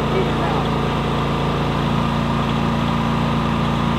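A Predator 9500 inverter generator running, a steady, even engine hum with a low droning tone throughout, with a person talking nearby.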